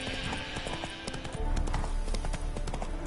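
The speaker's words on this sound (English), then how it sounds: "Spooking my horse. Roach doesn't like ghosts." Hoofbeats of a horse clip-clopping in The Witcher 3: Hearts of Stone, a steady rhythmic trot that grows louder and heavier partway through, set against game ambience and music.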